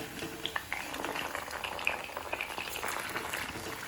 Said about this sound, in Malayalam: ഞാൻ കുറച്ച് അങ്ങോട്ടും ഇങ്ങോട്ടൊക്കെ നീക്കിയിട്ടൊക്കെ ആണ് ഇത് ഫ്രൈ ചെയ്യുന്നത് കേട്ടോ